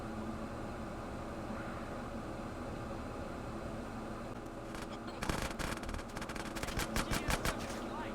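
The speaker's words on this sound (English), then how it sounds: "See, I'm shooting that dude through the window, but not taking any damage" Rapid bursts of game gunfire in GTA San Andreas, fired through a car window, crackle sharply in the second half after a stretch of quiet hiss, loud and fast like automatic weapon fire.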